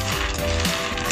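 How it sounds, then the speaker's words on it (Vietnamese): Peanuts roasting in a large pan over high heat give a steady, close dry sizzle and rustle with a faint stirring scrape, no voices. "Mình cho lạc vào trong một chiếc chảo lớn để lửa to."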